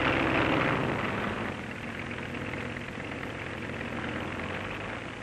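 A Bundeswehr military helicopter from 1957 flies past with a steady, loud broadband rotor and engine roar that eases slightly after the first second and then holds constant, with no talk.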